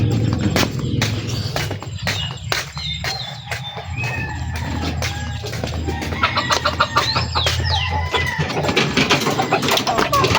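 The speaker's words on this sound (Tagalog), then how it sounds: "samahan nyo akong magpatuka ng labuyo" Native junglefowl (labuyo) chickens clucking and calling busily while being fed in their pen, a steady flock chatter with a few louder calls close by, no talking.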